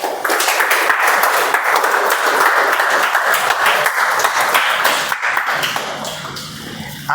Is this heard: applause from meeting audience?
yes